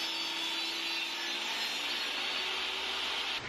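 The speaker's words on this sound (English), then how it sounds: "the last thing on the table saw is to give the end the same bevel or chamfer as the other side" Table saw cutting a 45-degree bevel across the end of an oak board, a steady loud whining cut held evenly throughout without pause.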